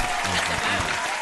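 Applause or hand clapping fills a short burst, dense and continuous, with a voice faintly underneath.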